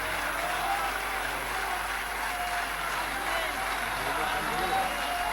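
An audience at an Indo-Pak kavi sammelan poetry gathering keeps applauding the poet Munawwar Rana, a steady distant wash of clapping with a faint voice underneath.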